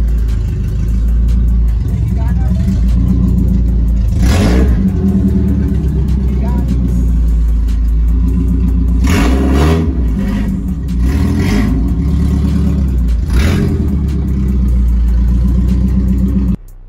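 A 4K engine in a Tamiya owner-type jeep with new headers and modified exhaust runs loud and steady with a raspy exhaust, throttle blips swelling up at intervals over the idle.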